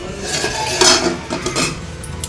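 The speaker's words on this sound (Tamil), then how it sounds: "இந்த மட்டன் பிரியாணி இப்போ வந்து நம்ம பரிமாறிக்கலாம்" Metal serving spoons clinking and scraping against pots and dishes while mutton biryani is served, a close, busy run of clatter without talk.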